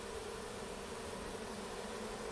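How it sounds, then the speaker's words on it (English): A steady, dense buzz of many bees fanning their wings at the hive entrance, continuous and even throughout, with no other sounds breaking through. "you can see all the bees are fanning"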